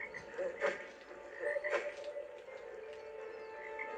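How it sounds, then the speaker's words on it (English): Frogs croaking in Lemony Snicket's A Series of Unfortunate Events video game, a few short croaks over a steady game ambience, with no speech. "Oh, one more frog."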